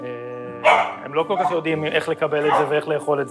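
A dog using a wheelchair draws quick yips and barks from other dogs, sharp bursts scattered through the stretch under and between a man's continuous speech.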